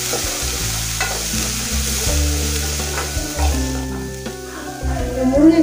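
Chopped green chillies sizzle in hot oil in a pan while a spoon stirs and scrapes them, giving steady frying crackle broken by repeated clinks and scrapes of the utensil, close up and with no talking.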